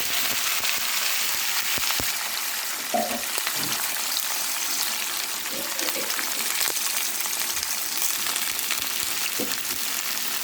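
Ivy gourds fry in a pan with cumin, giving a continuous crackling sizzle at close range with a few soft knocks of stirring, and no talking.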